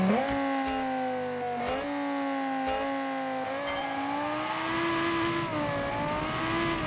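A twin-turbo V10 car engine in a video game hums steadily and revs up and down in a sustained, loud drone with a few sharp clicks, no one talking.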